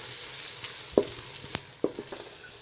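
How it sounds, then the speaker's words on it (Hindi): Garlic and ginger frying in a pan for karhi, a quiet, low sizzle broken by a few soft knocks and scrapes of stirring, close by with no talk. "लहसुन अदरक को 5 मिनट भूनें,"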